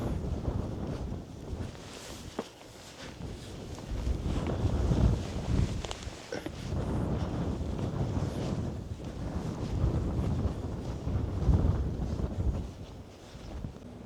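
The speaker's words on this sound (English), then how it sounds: "It's really windy out here" Strong wind buffets the microphone in continuous gusty roars that swell and ease, with no voices.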